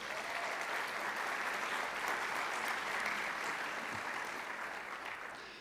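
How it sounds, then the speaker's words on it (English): Sustained applause from an audience at a high school senior recognition night honoring students, a dense, steady wash of clapping that fades slightly toward the end. "I'd like to give them another congratulatory round of applause"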